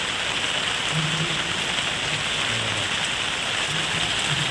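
Steady rain falling outside a house under a dark sky, forming a continuous, dense hiss of drops hitting surfaces, even and unbroken throughout, fairly loud and close.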